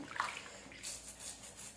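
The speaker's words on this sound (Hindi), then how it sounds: "तो यहाँ पे मैं हाथों पैरों को अच्छी तरह से पानी में डुबो के साफ कर रही हूँ" Hands and feet sloshing in a tub of water while being scrubbed clean, faint soft splashes and trickles coming in short bursts, close by and quiet.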